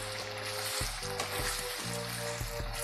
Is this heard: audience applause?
no